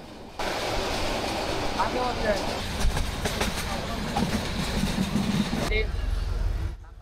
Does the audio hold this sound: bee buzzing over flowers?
no